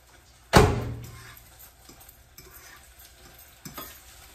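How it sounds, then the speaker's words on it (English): Eggs being scrambled in a pan: one sharp clank of utensil on the pan, then a soft sizzle and light scraping that fade into quieter kitchen sounds, with a faint knock near the end. "I'm just scrambling these eggs"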